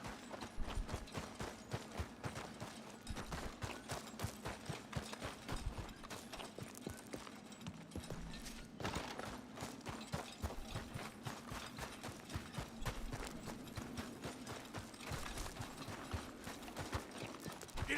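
Hooves clip-clop in a steady, quick rhythm as a horse moves through the world of the video game Red Dead Redemption 2, a faint continuous trot with a low background hum and no talk.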